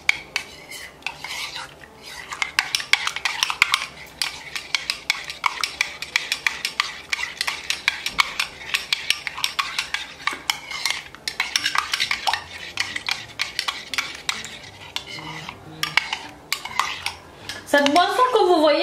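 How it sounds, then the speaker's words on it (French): A metal spoon stirs a tablespoon of honey into a coffee drink, clinking steadily and rapidly against the cup for the whole stretch, close and fairly loud with no talking. "une cuillère à soupe de miel et je vais remuer le tout"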